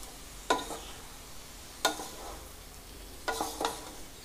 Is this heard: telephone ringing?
no